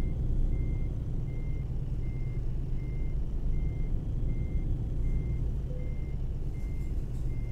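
Steady reversing beeps from a truck in Euro Truck Simulator 2 repeat at an even pace over a constant low engine rumble, with no voices.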